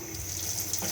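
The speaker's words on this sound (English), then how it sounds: "get water out of the taps," Water running from the tap of a Benimar Mileo 282 motorhome, fed by its onboard water pump: a steady, continuous hiss of flow with a low pump hum beneath, close and moderately loud, no talking.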